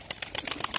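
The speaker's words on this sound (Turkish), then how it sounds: "Görüyorsunuz maşallah tabanca gibi kanat sesleri var." Wings of a flying pigeon bred for play flights clap and flap in a quick, rapid series of sharp beats, close and fairly loud, with no voices.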